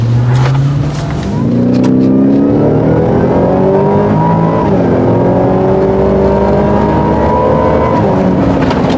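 A Ford Raptor R truck accelerating hard on a test drive, its engine revving up in rising sweeps through several gear changes, loud and close from inside the cab, without talking.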